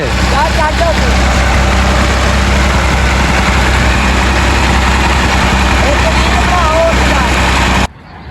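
A tractor engine idling loudly and close with a trolley attached, on a road, a steady deep rumble that cuts off abruptly near the end.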